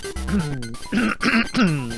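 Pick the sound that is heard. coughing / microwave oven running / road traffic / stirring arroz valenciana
coughing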